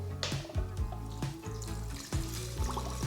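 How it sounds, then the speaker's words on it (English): Four cups of water poured into a blender jar for turmeric milk give a close, gurgling stream with repeated splashing pulses, steady and fairly quiet, with no voices. "we're gonna add in 4 cups of water."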